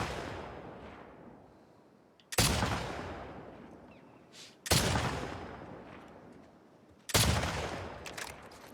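Three loud gunshots from The Last of Us Part 2 video game, each a sharp blast with a long decaying tail, spaced about two and a half seconds apart with no talking.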